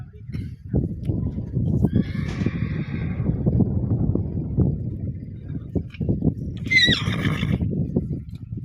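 A Marwari mare whinnies loudly twice, a shrill neigh early and another near the end, over steady outdoor rumble and scattered thuds.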